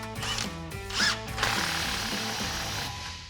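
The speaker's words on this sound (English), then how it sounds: "you can take a 15mm socket and tighten down the clamp" A power ratchet tightens a 15mm socket onto an exhaust clamp on a 2021-2024 Ford Bronco's axle-back exhaust, a close mechanical whirring with a rhythmic, stepped pulse running steadily for the whole few seconds.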